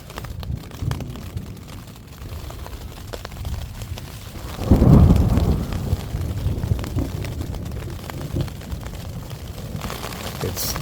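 A cool evening thunderstorm with rain pattering steadily and a close lightning strike on a nearby hill, its thunder booming and rumbling loudly near the middle before easing back into the rain.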